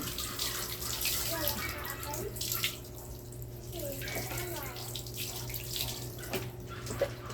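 Water runs steadily from a tap as a white dog named Whitey is bathed, a continuous splashing hiss with small drips and clatters, while a person talks softly over it.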